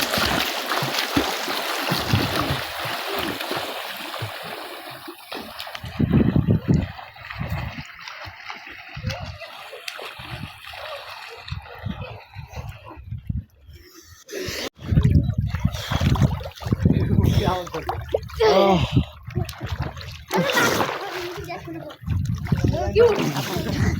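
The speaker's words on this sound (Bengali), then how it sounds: "এই যে বিশাল বড় নদী, এটা আমরা এখন সাঁতার কেটে পার হব" People swim across a wide river without a boat, water splashing and sloshing close by in irregular bursts, with voices talking over much of it.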